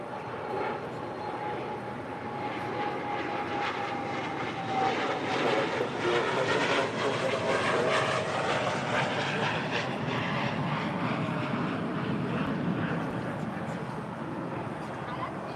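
An Aeromexico Boeing 787-8 Dreamliner arriving at Los Angeles International from Mexico City makes a continuous jet engine roar with a thin whining tone, growing a little louder midway and staying steady, with no talk.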